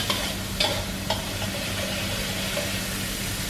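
Fresh coconut milk stir-frying in a pan until its oil separates, a steady close sizzle with a few brief scrapes and clicks of a spatula near the start.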